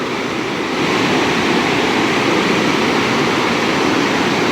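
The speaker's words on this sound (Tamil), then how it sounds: "தண்ணி ஓடிட்டு இருக்கு சூப்பராக அப்படியே" Water rushes near a waterfall on a forest road in Valparai, a loud, steady roar of flowing water, broad and constant throughout, with no talking.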